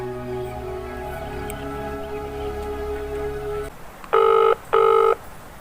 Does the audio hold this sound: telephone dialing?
yes